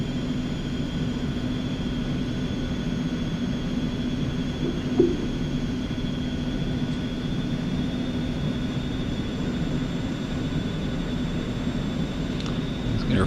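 Steady low whine and hum of Eclipse 550 jet engines at taxi power on a flight simulator taxiway, a constant drone with a faint tonal whistle rising slightly, no talk.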